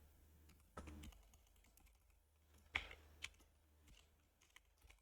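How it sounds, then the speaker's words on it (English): Keystrokes on a computer keyboard while entering code, scattered irregular taps with a few sharper louder presses, close and fairly quiet, no talking. "I'm just typing everything out so that hopefully that helps me remember."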